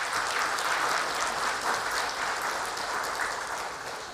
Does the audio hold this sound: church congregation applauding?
yes